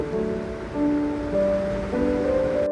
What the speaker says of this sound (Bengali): তেল গরম হয়ে এসেছে, এখন এখানে আমরা আলু কুচি দিয়ে দিব।